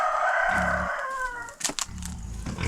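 A rooster crows loudly and close on a rural Serbian farm, followed by a few short clucks from chickens nearby.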